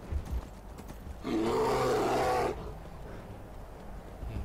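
A snow bear in the video game Skyrim lets out a single loud, growling roar lasting about a second, preceded and followed by quieter hoof steps and game ambience, with no talk.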